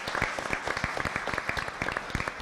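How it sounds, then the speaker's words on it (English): Clapping fills a school board meeting as the teamwork nominees are honoured, a lively patter of many hands close by with distinct individual claps throughout. "Let's give our teamwork nominees a round of applause."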